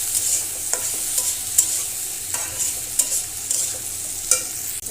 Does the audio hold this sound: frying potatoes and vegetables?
yes